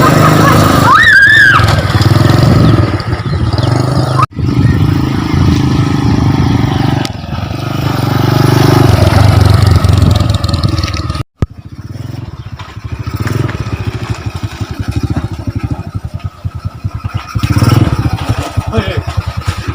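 A small motorcycle engine runs close by with a rough, buzzing idle and revs, while people talk and shout over it throughout.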